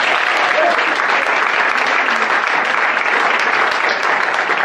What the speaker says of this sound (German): das gilt ein großer Applaus, ob man bis nach Husse hört, für unsere Marie-Louise Nikuta